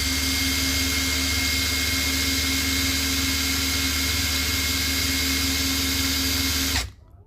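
A Kamolee Gen 2 impact driver running at speed level 1 gives a loud, steady, close-up high whine for about seven seconds, then cuts off abruptly.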